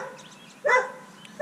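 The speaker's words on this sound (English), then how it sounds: "The dogs are barking." A dog gives two short, loud barks close by, separated by a brief pause, at the edge of a lake during crappie fishing.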